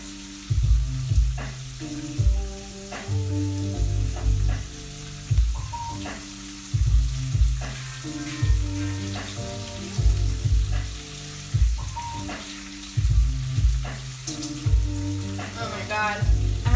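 Bacon frying in a pan gives a steady sizzle with scattered pops, running under louder background music with tonal chords throughout.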